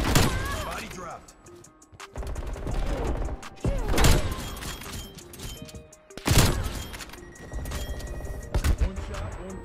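Sharp, loud sniper rifle shots ring out in Black Ops Cold War, a few spaced cracks with booming tails amid game clatter and excited talking.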